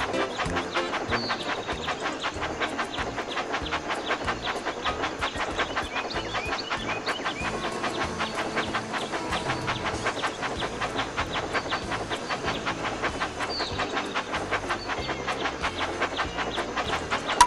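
Toy train engine chugging along the tracks in the Thomas Magic Tracks game, a steady rapid puffing rhythm with hissing steam, continuous and fairly loud against busy game music.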